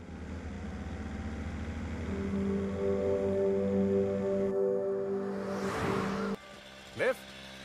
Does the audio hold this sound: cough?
no